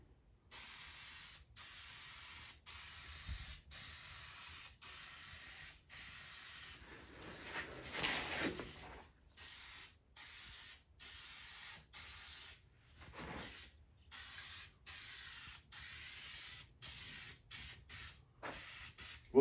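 Rust-Oleum spray paint hisses onto a farm truck in a long series of short bursts, each a second or two, separated by brief silences, close and clear with no talking.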